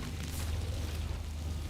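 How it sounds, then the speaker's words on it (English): An explosion from a car crashing into a gas station in the Roblox game Brookhaven: a deep, steady, booming rumble that fills the whole moment without letting up. "The resulting explosion caused massive devastation to the gas station, forcing them to rebuild."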